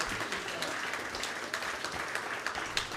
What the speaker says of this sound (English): Let him hear it, Charlie Clark.